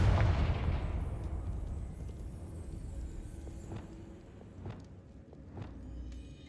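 A Confringo blasting curse cast in Hogwarts Legacy sets off a loud burst at the start that fades into a lingering rumble, with a few sharp cracks and impacts following at a distance.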